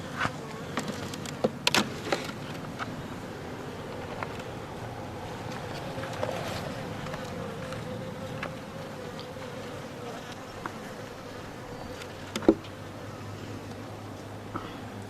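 A newly installed package colony of honeybees drawing out fresh comb gives off a steady close buzz, with a few sharper passes as single bees fly right by.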